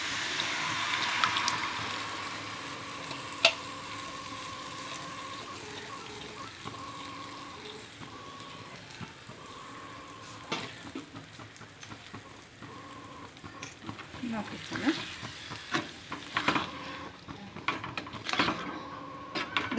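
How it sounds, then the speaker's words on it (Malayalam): A pan of well-cooked, softened lemon for lemon pickle sizzles and gets stirred, giving a steady frying hiss with scraping clatters that grow busier toward the end. "അപ്പോൾ ഞാൻ നാരങ്ങ ഇതിലോട്ട് ഒഴിക്കാം കേട്ടോ"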